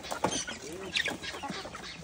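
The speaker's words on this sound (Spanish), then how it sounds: "La gallina, ve." Hen on a rural farm in El Salvador clucking a few short, soft times nearby. A little background voice sound is mixed in.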